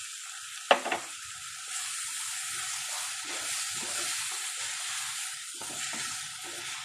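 Ground tomato hits a hot pan for shakshuka with a brief sharp splash, followed by a steady soft sizzle and frying hiss with faint stirring.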